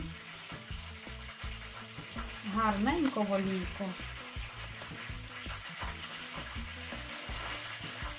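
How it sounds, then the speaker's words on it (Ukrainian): Steady oil sizzle and crackle of dough pastries (pyrizhky and bilyashi) frying, with someone speaking briefly over it and some clinking in the background. "Перша партія смажиться, а ми робимо далі."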